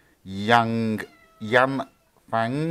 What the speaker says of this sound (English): Sorry, that was the dog fighting the cat.